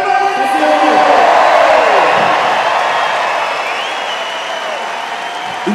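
A large crowd applauds and cheers steadily, the clapping loud and continuous, slowly easing off toward the end with a few whoops mixed in.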